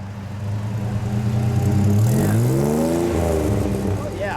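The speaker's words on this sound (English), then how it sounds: "Let me get a little exhaust note while we're here." A 1968 Kaiser Jeep Jeepster Sport Convertible revs close by, its exhaust note climbing sharply in pitch to a peak and then settling back to a steady idle rumble.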